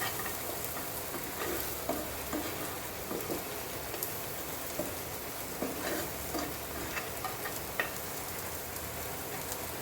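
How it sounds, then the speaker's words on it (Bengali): Onions fry in oil ahead of a hilsa fish fry, a soft but steady crackling sizzle with frequent small pops running the whole time, no voices. "পেঁয়াজটা ভাজা ভাজা হয়ে গেল"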